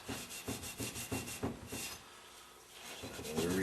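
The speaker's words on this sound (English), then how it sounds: "we can take a Scotch-Brite pad, clean some of this off, some of this buildup" A Scotch-Brite pad scrubs buildup off a part of a Meyer E-60 snowplow pump, a rhythmic rasping rub in quick strokes, close and moderately loud, that slows and fades near the end.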